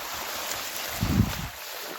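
Water drains out of a flooded farm field through a pipe without any motor, a steady close rushing and gurgling with a brief heavier surge midway.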